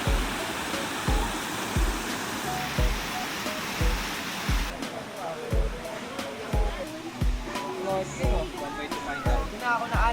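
Rushing water of a cold spring in Camiguin, Philippines, forms a steady broadband roar throughout, with a regular pattern of low thumps and voices or splashing sounds partly over it in the second half.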